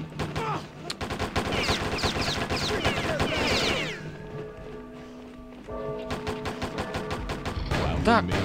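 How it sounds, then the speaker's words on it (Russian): Gunfire in the video game POSTAL, a dense rapid burst for several seconds, then a quieter stretch, then scattered shots and metallic clatter, with voices talking under the shooting. "Кто там стреляет?"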